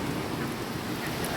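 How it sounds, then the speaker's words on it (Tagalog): Heavy rain pours down at night in Hong Kong under a yellow rainstorm warning, a steady dense hiss with no breaks, moderately loud throughout. "Oh, ang lakas ng ulan."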